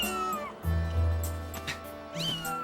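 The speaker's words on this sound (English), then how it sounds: "Don't meow at me." Game cat from Zelda Skyward Sword meowing: a long drawn-out meow, then a second rising meow near the end, over a steady low in-game music drone.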